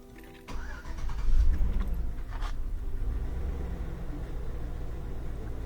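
A 16-year-old GMC Yukon, just repaired for a rough idle, cranks briefly and fires up, then settles into a steady, slightly hunting idle that runs on close by.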